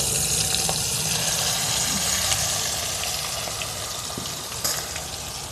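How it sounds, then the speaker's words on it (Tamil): Chicken pieces frying in hot oil in a pan give off a continuous, fairly loud sizzling hiss with small crackles, steady throughout and with no voices. "இந்த ஸ்டேஜில் நம்ம அப்படியே சிக்கனை போட வேண்டியதான்."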